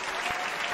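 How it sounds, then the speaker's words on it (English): A brief burst of crowd cheering and applause from the city-building game Smart City Plan, a dense, even wash of clapping and voices lasting under a second. "Somebody's cheering us."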